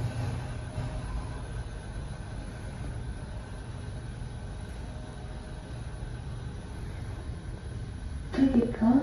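A train at Newton MRT Station gives off a steady, low rumble with a high whine above it, heard throughout the clip, and a person's voice breaks in near the end.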